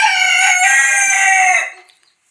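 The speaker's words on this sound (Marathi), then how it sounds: "जास्त करून आपला गावठी कोंबडा आहे ना हा जास्त चांगला आणि सुरेखपणे आरवतो" A village rooster crows once, loud and close, in a single long strained call lasting about a second and a half before it trails off into silence.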